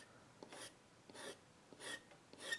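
A tool scratches across illustration board in four slow, rhythmic strokes, each a soft, dry rasp, faint and close with a quiet background.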